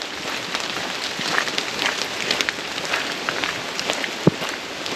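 Light morning rain pattering steadily on a short forest hike in Michigan, soft and diffuse with scattered close drips and no voices.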